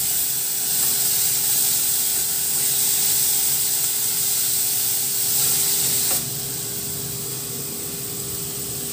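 Onion paste and chopped chillies frying in a pan for a tangy fish curry, giving a steady, close hiss and sizzle with no talk, dropping slightly in level after about six seconds.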